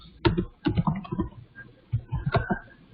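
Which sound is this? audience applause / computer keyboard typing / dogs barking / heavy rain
computer keyboard typing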